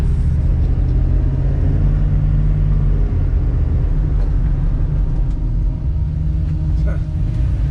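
A 1971 Chevy Nova LS being driven, its engine giving a steady, loud low rumble with a constant road drone that barely changes throughout.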